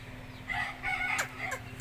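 A rooster crows nearby, a drawn-out call in a couple of rising bursts over a low steady hum, with no talking.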